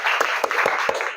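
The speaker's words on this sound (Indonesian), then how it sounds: "Kita kasih tepuk tangan dulu untuk Azra." Classroom applause for a student, a short burst of clapping with a few distinct louder claps standing out, fairly close and lively.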